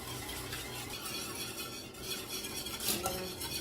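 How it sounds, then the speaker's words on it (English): Sauce stirred in a pot for Polish-style ribs, a steady close scraping and swishing of a utensil against the pot with faint clinks, continuous and alone. "Keep stirring our sauce until it comes up to a boil."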